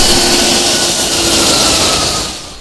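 Roaring jet engine of the Guinean presidential airplane, a loud steady whine and rush up close that fades slightly toward the end, with no voices.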